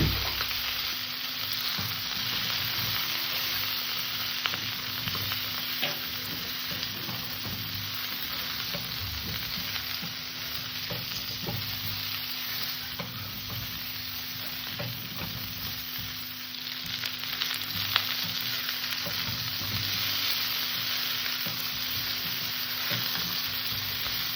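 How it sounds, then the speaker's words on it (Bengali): Cauliflower and potato pieces fry with turmeric in a pan, giving a steady, dense sizzle that runs unbroken throughout at an even level, with no voices. "ফুলকপি আলুটাকে আমি সুন্দর করে ভেজে নেব হলুদ দিয়ে দিলাম"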